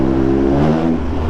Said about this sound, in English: I've definitely heard louder exhaust before